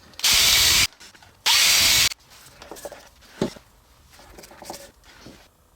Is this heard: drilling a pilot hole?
yes